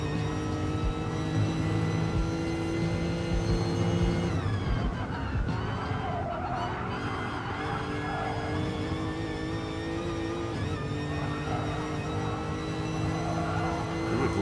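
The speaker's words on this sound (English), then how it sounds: "Ooh, the Lexus makes a cool noise." A Lexus race car in GT Sport drones with a loud, steady engine note throughout, its pitch shifting briefly around a gear change or braking before settling back into a sustained roar.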